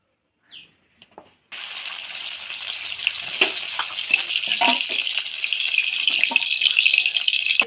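Oil goes into a hot pan for cooking beet greens: a few faint clicks, then a sudden loud, steady sizzle that keeps crackling close up.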